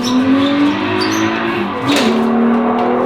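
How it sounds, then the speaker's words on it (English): A 900 hp 12-valve VR6 race engine runs hard with a rough, uneven note consistent with a misfire, a steady loud drone holding throughout with a brief crackling stumble near the end. "Got a misfire. Gotta check my plugs."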